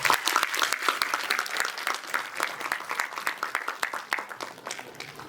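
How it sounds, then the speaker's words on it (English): An audience at a hybrid awareness programme gives a round of applause, dense clapping with sharp individual claps audible, loud at first and gradually tapering. "A big round of applause."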